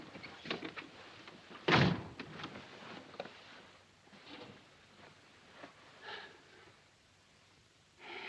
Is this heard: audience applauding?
no